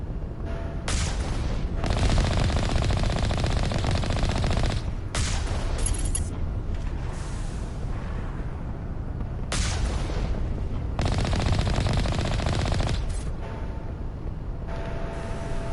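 Weapon fire in Mass Effect Legendary Edition, heavy booming bursts of shots rolling almost continuously, with brief pauses between volleys and loud, dense blasts throughout.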